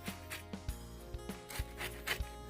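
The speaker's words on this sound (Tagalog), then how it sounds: "Kuskusin po natin yan." A bitter gourd (ampalaya) is scrubbed clean by hand with repeated rhythmic rubbing strokes, close and moderately loud, with soft thumps between the strokes.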